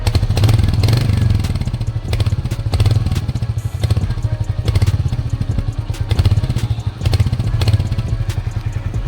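A 2025 Royal Enfield Hunter 350 motorcycle's single-cylinder engine starts and idles close up with a steady thumping beat, a few small blips of throttle, and no talking over it.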